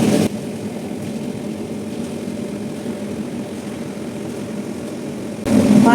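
A Shantha wet grinder grinds soaked rice with water, its motor giving a steady, close, continuous drone that holds evenly for several seconds before the sound shifts near the end.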